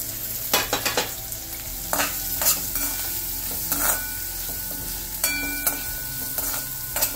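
Vegetables with curry leaves and dried chillies are dry-roasted in a pan for upma premix, a spoon scraping and knocking in scattered strokes over a steady soft sizzle, close and without speech.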